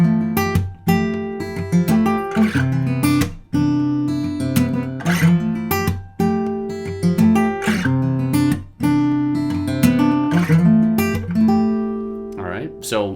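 A guitar plays a repeating two-chord chorus, strummed chords ringing close and clear in a steady rhythmic cycle, with no voice over it.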